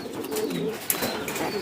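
A male ringed racing pigeon coos softly in low, rolling phrases over faint background noise, with no talking.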